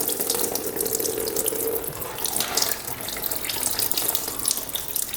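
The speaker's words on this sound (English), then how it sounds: "Alright, it's draining all over the place." Fluid pouring out of an overheated, freshly rebuilt UTV engine, a steady loud splashing rush that runs without a break throughout, with no talking over it.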